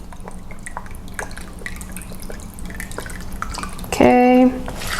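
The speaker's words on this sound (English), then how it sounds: "Half a cup of balsamic vinegar." Half a cup of balsamic vinegar is poured from a bottle in a home kitchen: a short, bright glugging splash near the end, following a stretch of faint kitchen noise and background voices.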